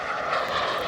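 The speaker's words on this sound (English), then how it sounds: "airplanes approach Will Rogers right over me here in Newcastle" An airplane passes overhead on approach to Will Rogers airport near Newcastle, a loud, steady broadband engine roar with no voices.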